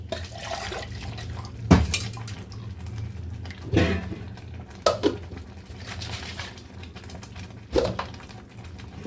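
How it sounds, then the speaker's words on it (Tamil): Water splashes and pours into a cooking pot of pirandai kara kuzhambu in a few bursts, with clinking of cookware against a steady low background hum. "இதில் நம்ம இப்போது தண்ணி கலந்துக்கலாம்."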